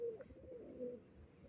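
Breeding pigeons kept in a loft cooing softly, low throaty murmurs repeating a few times in quick succession, close by and fairly quiet.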